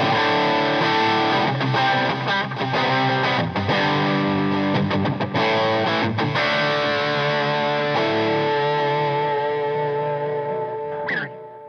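An electric guitar played through an Xotic AC-Comp compressor pedal with distortion, loud and sustained, its chords ringing thick and saturated before fading out, with no voices.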